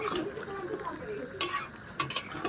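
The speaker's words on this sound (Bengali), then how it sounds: "এভাবে একটু নাড়তে হবে" Pumpkin curry with large pumpkin chunks and greens is stirred in a pot, giving soft scraping and clinking of the spoon against metal, with a few sharper knocks near the end over a low kitchen background.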